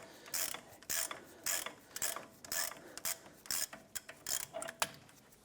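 A ratchet loosens the upper brake caliper bracket bolt on the front of a 2015-2020 Cadillac Escalade. Close, rhythmic bursts of clicking repeat about ten times, alone and without talk.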